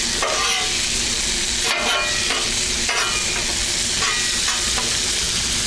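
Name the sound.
cheeseburger cooking on the grill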